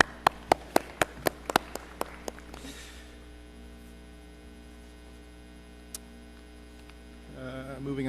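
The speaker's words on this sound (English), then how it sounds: "Another round of applause for that." Brief burst of applause at a school board meeting, roughly ten sharp claps in the first two seconds, then fading into a steady room hum with a low rumble rising near the end.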